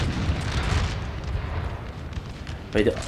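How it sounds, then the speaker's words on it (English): Artillery fire in the video game Napoleon: Total War 3 during a 4v4 battle, with dense low rumbling booms and blasts rolling through the whole clip and a sharper burst near the end, moderately loud, with talk over it. "That artillery was perfectly timed."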